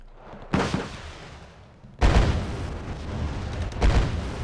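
Rockets firing and exploding in the Wargame: Red Dragon campaign, with three heavy booming blasts, one early and two close together later, each followed by a rumbling tail.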